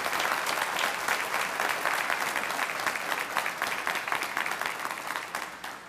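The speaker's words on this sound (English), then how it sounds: "give everyone a round of applause" Sustained applause from a crowd at a police department awards banquet, steady and dense clapping filling the whole stretch without pause, tapering slightly toward the end.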